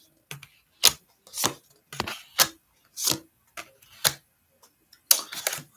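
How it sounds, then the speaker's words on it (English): Tarot cards being shuffled by hand, heard as a run of crisp, close papery bursts in an uneven rhythm with short pauses between them, and no talking. "Now I'm going to shuffle them just thinking about this very question."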